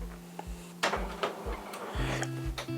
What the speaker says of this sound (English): the printer's alive and something's happening